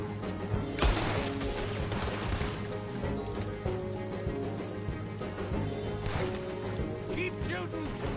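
Gunfire in Red Dead Redemption 2 crackles in dense, repeated bursts of sharp shots layered over game music and effects, with a few louder cracks standing out.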